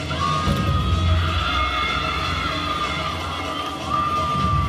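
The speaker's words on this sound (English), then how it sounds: "they're in front of a home crowd cheering them on" Home crowd at an NCAA women's gymnastics championship cheering during an Alabama floor routine, a sustained roar of shouts and whoops from a large arena audience, steady and loud with no break.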